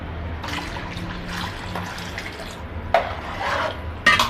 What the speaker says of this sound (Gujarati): આમાં આપણે બીજું પાણી નાખીશું.